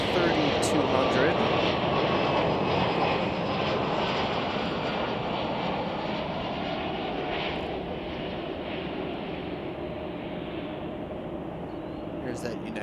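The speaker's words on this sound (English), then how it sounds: "Flight 125 coming in from Dublin in 2 minutes. On an Airbus" An Aer Lingus Airbus A330-200 arriving from Dublin at Chicago O'Hare Airport produces a broad, steady jet roar that slowly eases in loudness over about thirteen seconds, heard from a distance.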